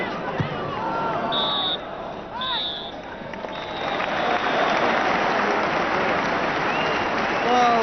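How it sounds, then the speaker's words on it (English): A football crowd applauds as Stoke City players leave the pitch during a 1984/85 match against Arsenal, a broad steady wash of clapping and crowd noise with a few shouts and whistles rising over it. "Well, Stoke City come off to good applause."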